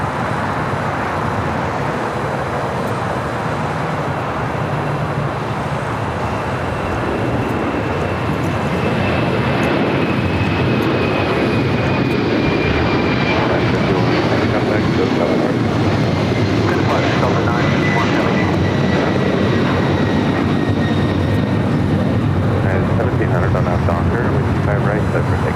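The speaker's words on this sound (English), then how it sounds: "Got that Delta 767 now rolling down." A Delta Boeing 767 airliner rolls down the runway at LAX, its steady jet roar broad and continuous, with a faint rising whine running through it; voices talk over the engine noise.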